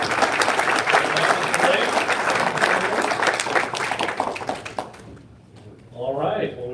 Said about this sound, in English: let's give these two guys a big round of applause